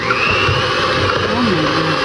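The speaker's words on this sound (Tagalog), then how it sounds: "blender na mimix na natin" Loud continuous whirring of a blender motor running steadily while mixing oat cookie batter with almond flour, with a voice briefly audible under the noise.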